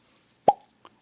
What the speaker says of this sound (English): Why is it whenever I get a headshot in Halo 5,